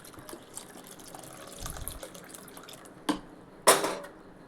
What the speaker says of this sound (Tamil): இப்போது தண்ணி ஊற்றி